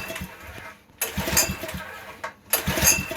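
A wacker plate compactor engine, just refuelled and fitted with a carburettor, is pulled over in two loud bursts about a second and a half apart, each catching briefly and sputtering before dying away, with no talk.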